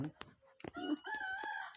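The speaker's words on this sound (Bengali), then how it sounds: "মুরগি খাচ্ছে" Chickens cluck softly while pecking at food, giving a few short, close calls over about two quiet seconds.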